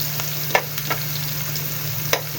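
Grated onion frying in a pan, a steady soft sizzle with a low constant hum beneath and a few brief scraping stirs breaking through.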